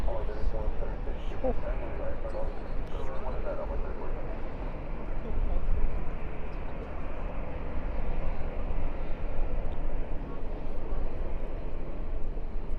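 Steady low engine rumble and broadband roar from a Cessna Super Cargomaster at DFW airport at night, continuous and fairly distant, with a voice talking over it.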